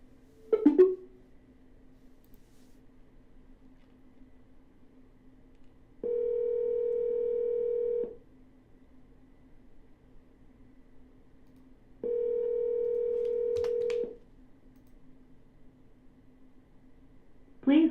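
Telephone dial tone during a repeat call to a property seller: two steady two-second tones separated by quiet line hiss, with faint clicks at the start and end.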